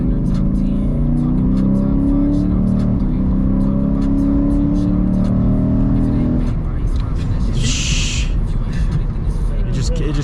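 A 2023 Lexus IS500 F Sport V8 pulls hard from inside the cabin, its engine droning and rising loudly for several seconds before dropping off, with people talking over it.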